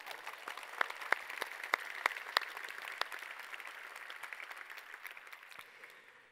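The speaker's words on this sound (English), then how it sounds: "Applause for the United Nations." A conference audience gives faint applause after a talk, with scattered individual claps over a soft, sustained clapping wash that gradually fades out.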